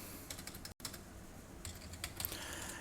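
Soft keystrokes on a computer keyboard come in quick clusters as PHP code is typed, with light, close clicking over a quiet background.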